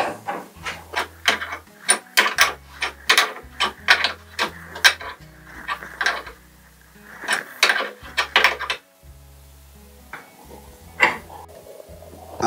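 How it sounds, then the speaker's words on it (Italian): Sharp metallic clicks and ratcheting taps from a 21 mm wrench tightening a toilet cistern fitting come in irregular bursts with short pauses, close up and without talking. "lo stringiamo con una chiave da 21"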